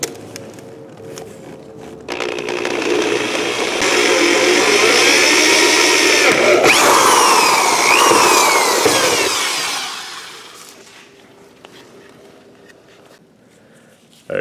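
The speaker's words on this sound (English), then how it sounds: "Drill away." A power drill bores a hole through car body metal during a mechanical-to-electric fan conversion, a loud steady whirring grind rising to a high squeal for several seconds and then tapering off, with no talk over it.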